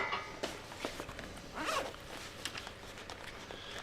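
A pencil case zipper is pulled open in a few quick, scratchy bursts at close range, with a brief longer zip in the middle and faint room noise around it.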